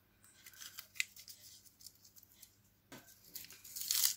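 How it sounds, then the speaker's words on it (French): Used adhesive tape peels off a painted surface in a Christmas and winter craft project, in several short sharp tearing bursts with quiet gaps between them, the last strip longest and loudest; nobody talks. "j'enlève les scotch."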